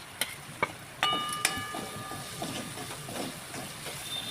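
Red chilli powder and other masala fry in oil for a papdi and potato bhaji, making a soft continuous hiss with a few sharp clacks and a brief thin ringing tone near the start.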